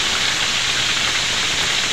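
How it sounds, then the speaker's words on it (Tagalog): Fish frying in hot oil gives a dense, steady hiss and crackle, close and continuous with no pause or talking. "Simulan na natin prito yung isda."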